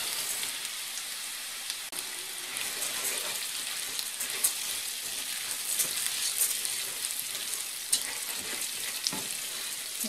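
Buckwheat groats sizzle and crackle in hot oil in a pan for a duck-breast kaszotto, a steady, dense frying hiss with small pops and stirring scrapes that carries on without pause.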